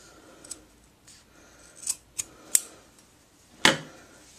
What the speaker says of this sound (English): cut as close to that seam as you can without cutting the seam